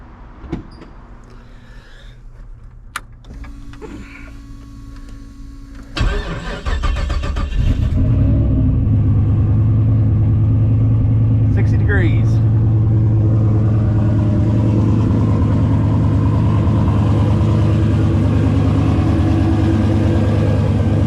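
Clicks and a brief crank, then a car engine catches and settles into a loud, steady idle with a raised hum, close by.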